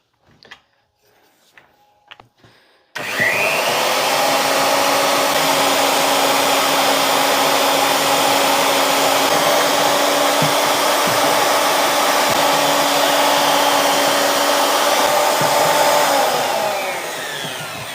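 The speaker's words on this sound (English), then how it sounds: "Now I'm going to mix it with the electric mixer, slowly adding the Dispex while I'm mixing at the same time." An electric mixer churns casting slip made from mid-fire casting powder with Dispex, starting abruptly after a few quiet handling clicks and then holding a loud, steady, close whirring drone for about fifteen seconds.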